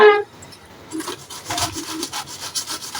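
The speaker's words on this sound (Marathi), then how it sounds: "तर चला आपण बटाटे किसून घेऊया तर मी हे किसून घेते" Boiled potatoes grated by hand for cheese corn balls, a soft rasping scrape repeating in quick strokes after a brief pause, close and moderately loud.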